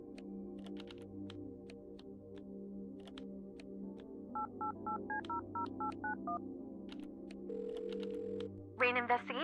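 Phone number being dialed in Kathy Rain 2, heard as a quick series of about ten clear electronic keypad beeps in a steady rhythm over a low background hum, followed by a brief ringing tone.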